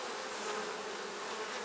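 Honeybees buzzing at an open hive during a hive inspection, a dense, steady drone of many wings held close and loud throughout, with no voices.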